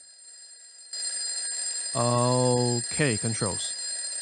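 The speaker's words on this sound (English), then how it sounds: "the alarm clock ringing in my ear" Alarm clock ringing in a horror video game, a steady shrill electronic tone running throughout, loud and close, while a person talks over it.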